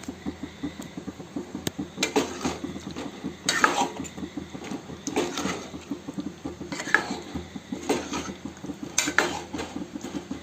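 A spoon stirs prawns through thick masala gravy in a pan, giving repeated close scraping and clinking strokes with soft wet sloshing in an irregular rhythm. No one talks.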